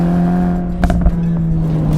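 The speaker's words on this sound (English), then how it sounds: "in this Sport Plus mode, Acura gives you a few exhaust burbles here and there" Acura Integra Type S exhaust in Sport Plus mode: a steady low engine drone with a couple of brief popping burbles in the middle, fairly loud and close, with no talking.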